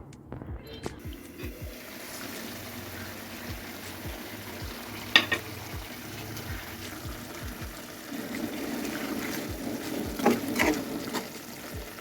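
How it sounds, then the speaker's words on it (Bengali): Potatoes and green beans sautéing in a pan for a home-cooked Bengali lunch, with soft sizzling and occasional stirring scrapes throughout, a few sharper clinks near the middle and end, and faint background voices. "আলু আর শিমকে কষিয়ে নিয়েছি"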